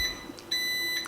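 Kitchen appliance beeping after it finishes preheating: a pair of short, clear electronic tones, close and alone, repeating once within a second.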